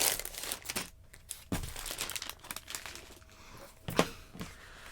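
A plastic bag holding the instruction booklet for Lego set 75955 Hogwarts Express crinkles and rustles close by as it is handled, in irregular bursts with short pauses.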